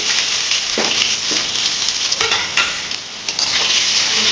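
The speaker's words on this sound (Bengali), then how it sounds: "তারপর আলু ভেজে দিয়ে" Potatoes frying in oil in a home kitchen, a loud continuous crackling sizzle with a few sharper pops and stirring scrapes across the few seconds.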